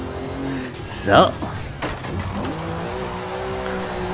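Ford Mustang, the 1500 hp Ken Block Unicorn, driving in the racing game Forza Horizon 5, with a steady engine drone, a brief tire squeal or skid burst near the middle, and someone talking over it.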